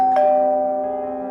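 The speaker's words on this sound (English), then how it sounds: "The doorbell rang." A doorbell sounds a single clear electronic ding that rings out and slowly fades, alone and fairly loud.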